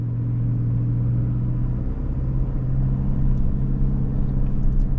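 A Toyota off-road vehicle's engine rumbles steadily at close range while its wheels spin in sand mode, a low, continuous drone with slight rises in revs.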